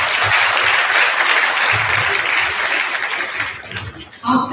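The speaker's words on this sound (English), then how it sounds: "Give a applause to yourself." A conference audience at SJTC Pavaratty applauding themselves, a loud, dense burst of clapping that fades near the end, where a voice begins to speak.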